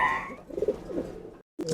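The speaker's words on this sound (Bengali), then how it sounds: "ইরানি যে কবুতরটা এটা তো হাই ফ্লাইয়ের ক্যাটাগরি কবুতর" Fancy pigeons, including an Iranian high-flyer breed, coo softly and close by at a pigeon farm in a short burst of throaty calls that stops briefly before resuming.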